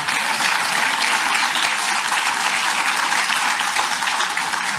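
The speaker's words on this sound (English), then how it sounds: "there's a lot of applause there" A large audience applauds steadily, a dense, loud wash of clapping that holds without a break, with no speech over it.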